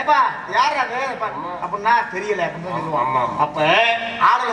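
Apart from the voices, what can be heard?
No everyday noises stand out.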